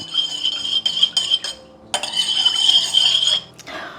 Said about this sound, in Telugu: ఫస్ట్ ఈ కొంచెం జ్యూస్లోని బాగా కలిసేలాగా కలిపేసుకోవాలి